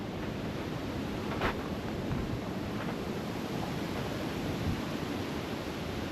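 Steady wind rushes past a sandstone cave overhang in the Budawangs bush, a constant broadband roar with a few faint gusty swells, no voices.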